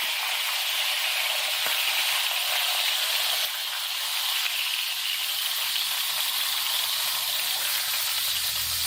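Pork chops frying in a pan, a steady bright sizzle and hiss that holds evenly throughout, close and loud with no talking.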